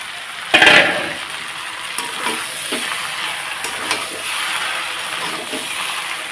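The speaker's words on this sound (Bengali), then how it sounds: "এটা হালকা কষিয়ে নিয়ে এখন আমি জল দিয়ে দেব" Boiled chana dal sautéed in a pan, a continuous bright sizzle with stirring scrapes and a sharp metallic clink near the start.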